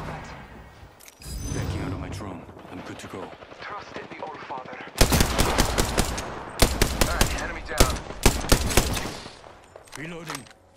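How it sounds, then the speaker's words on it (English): Rapid bursts of video game gunfire crack loudly in several clusters in the second half, following a stretch of game voice lines and background noise, with brief pauses between volleys. "Shots fired at me."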